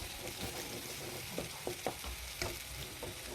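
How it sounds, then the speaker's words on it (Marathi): Spice paste sautéing in a pan for a drumstick curry, a low steady sizzle with scattered soft scrapes of a spoon, faint and close, no voices. "छान परतून घ्यायचं आहे आणि या मसाल्याच्या वाटणला शिजू द्यायचं आहे"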